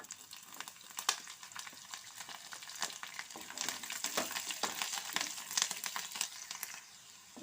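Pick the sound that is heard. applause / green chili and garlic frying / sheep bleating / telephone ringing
green chili and garlic frying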